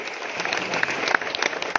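A crowd at a farmers' leaders' gathering gives a short burst of clapping, many hands striking irregularly at moderate distance for about two seconds.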